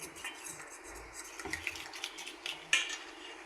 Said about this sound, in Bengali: ভালো করে মিক্স করে নেব সবগুলো